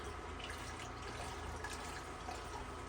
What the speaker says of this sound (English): We're gonna add just enough beef broth to cover the vegetables